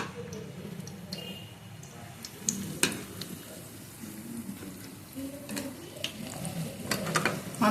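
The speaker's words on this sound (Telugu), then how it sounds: "తక్కువ మంట మీద వేయించితే లోపల కూడా బాగా కాలుతుంది కాబట్టి ఆల్రెడీ ఉడికించిన వంకాయలే కాబట్టి ఇవి బాగా వేగుతాయి." Boiled eggplant pieces fry slowly over a low flame, giving a faint, steady sizzle with occasional ticks and light stirring clinks, close by with no one talking.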